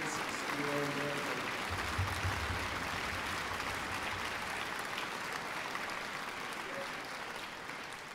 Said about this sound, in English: we owe their fine teachers and directors a round of applause